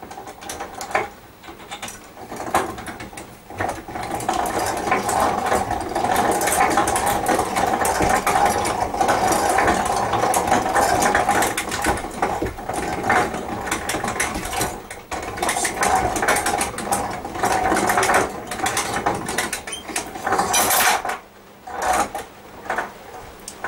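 A tube swaging drawbench is hand-cranked with a shackle hooked to the drawbar, giving a steady mechanical grinding and ratcheting that runs loud and continuous for about twenty seconds before briefly dropping off near the end.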